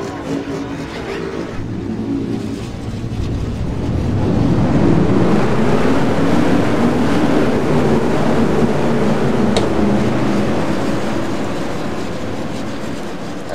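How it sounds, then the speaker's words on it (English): Stock car engines fire up together at Daytona for the Veteran Shootout: a loud, dense mechanical roar that swells around the fourth second, then holds steady and full to the end. "We're going to get ready for the command to fire the engines at Daytona here in the Veteran Shootout"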